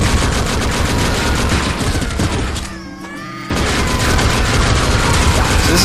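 Rapid pistol fire rattles loud and close in the video game Gore, a dense burst of shots that breaks off briefly for a second before the firing resumes.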